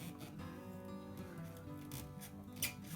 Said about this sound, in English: Trimming the excess tile.